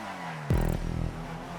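An Ardent car races in the GTA 5 video game: a short, loud engine roar with a falling pitch, then a steady hum that carries on under the game's background sound.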